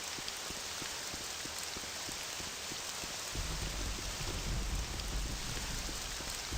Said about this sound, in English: Maybe that's why I like the rain so much.